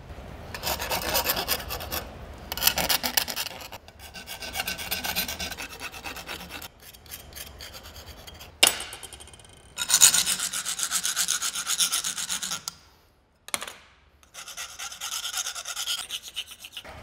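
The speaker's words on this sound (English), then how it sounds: "we want to go over and file any edges that need it, whether it's with a big file, small file, sandpaper." Hand file rasping along the cut edges of scrap metal pieces in a school shop, in repeated rough strokes with brief pauses between bursts, loud and close with no talking.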